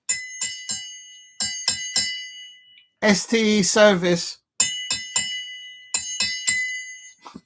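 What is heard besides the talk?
ringing a ding-a-ling bell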